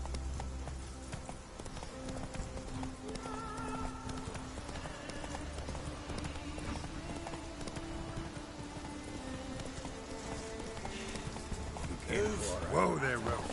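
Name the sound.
horse Roach galloping in The Witcher 3 video game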